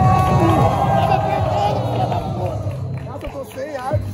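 Loud crowd roaring and cheering at a Brazilian street rap battle, dense babble and shouts swelling throughout, with excited voices and whoops rising over the noise near the end.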